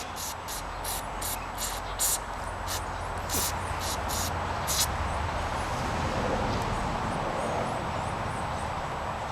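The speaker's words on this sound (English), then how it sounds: "Then you want to take some compressed air and blow this thing out." Compressed air hisses steadily over the clutch of a Yamaha XS650 motorcycle, a continuous broad rush of blowing air with faint higher chirps riding on top throughout.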